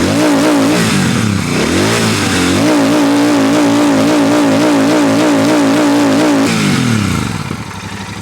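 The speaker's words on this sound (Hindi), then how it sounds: "आइडल कंडीशन में कुछ इस तरीके से गुफ्तगू करती है मोटरसाइकिल आपसे।" A Royal Enfield Super Meteor 650 twin-cylinder motorcycle, loud and close, idling with a steady thrum, then revved in repeated swelling bursts that rise and fall before settling back, without talk.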